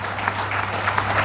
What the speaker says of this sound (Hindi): जोरदार तालियों से मैं चाहूंगा उनका सम्मान करें।